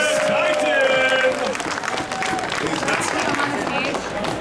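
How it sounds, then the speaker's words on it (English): Comic Con crowd applauding and cheering a Thanos cosplayer in a costume contest, a dense wash of clapping with voices talking over it and a few whistle-like cries near the start. "A huge round of applause"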